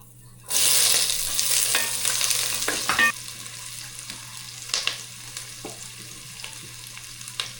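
Garlic and onions frying in a hot pan for beef kaldereta, a loud steady sizzle that starts abruptly and continues, with occasional stirring scrapes and clinks.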